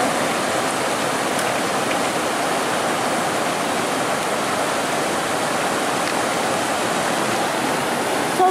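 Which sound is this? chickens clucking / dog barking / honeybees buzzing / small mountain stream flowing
small mountain stream flowing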